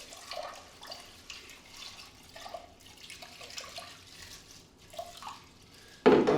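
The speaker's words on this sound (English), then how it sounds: "we're gonna rinse off our sea moss just like regular" Running water from a kitchen tap splashes steadily over raw sea moss being rinsed, with small irregular drips and splashes throughout and a sudden louder gush of flow near the end.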